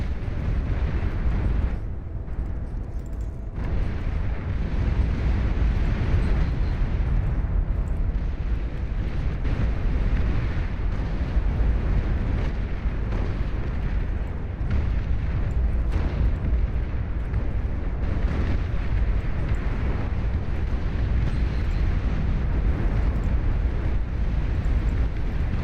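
Cannon fire in a battle video game rolls on as a dense, steady rumble of booming blasts, loud and continuous with no pauses, and no talking.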